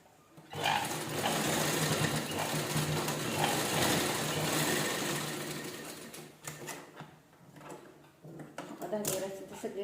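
A sewing machine runs steadily, stitching a pocket onto a garment, with a continuous close mechanical whir that slows and stops near the end before brief handling clicks.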